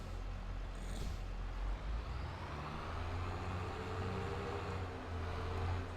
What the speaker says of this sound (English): So tractor goes back out again.